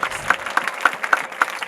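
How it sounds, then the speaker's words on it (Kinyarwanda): A church congregation claps in a quick, even rhythm during a prayer service. The sharp claps are moderately close and repeat about every quarter second. "Muyikomera amashyi."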